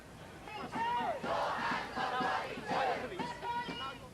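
A large protest crowd chants in unison at a street demonstration against the war in Gaza, loud and sustained with rhythmic shouted phrases rising and falling across several seconds.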